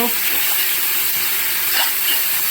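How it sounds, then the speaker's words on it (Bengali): Ginger-garlic paste and spices sizzle and fry in oil in a pan while being stirred, a steady close hiss with soft scraping, no talking, for a red potato and egg curry. "ভালো করে নাড়িয়ে চাড়িয়ে নিচ্ছি, মশলাটাতে কষিয়ে নেব, তখন তেল বেরিয়ে আসবে।"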